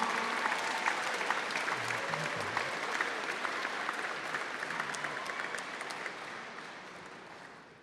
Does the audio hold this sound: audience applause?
yes